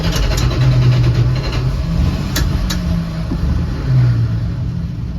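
A 1967 Dodge van's engine rumbles loud and close, revving in a couple of surges over a steady idle.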